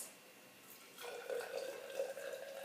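Water at about 80 degrees is poured in a thin, steady stream, starting after a brief pause and continuing with a soft trickling, close and quiet.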